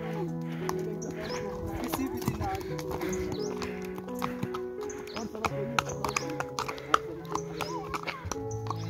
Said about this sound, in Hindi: यहाँ पे ट्रैक से ऊपर जाने के लिए घोड़े भी हैं,